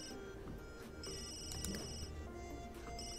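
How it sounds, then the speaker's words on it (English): A phone rings in The Sims 3 video game, a steady repeating electronic ring heard quietly and continuously. "Alright, answer the phone."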